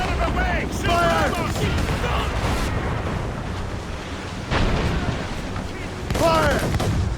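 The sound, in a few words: mortar and cannon fire in Assassin's Creed Rogue video game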